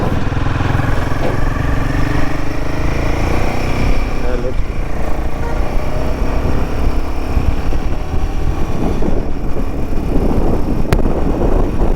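A 2024 Royal Enfield Himalayan 450 touring motorcycle hums steadily on a test ride, its engine drone and wind noise continuous beneath someone talking.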